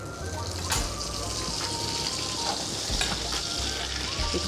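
Butter melts in a saucepan with a continuous, close sizzle and light crackling, interrupted by faint stirring and clinks.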